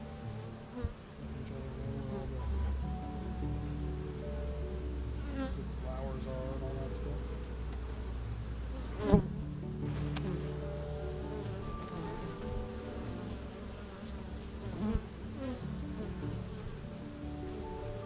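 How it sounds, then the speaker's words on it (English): Bees buzz steadily around a Flow Hive with foundationless frames, a continuous close droning hum, with a few brief knocks and soft talk in the background. "there's still bees down here"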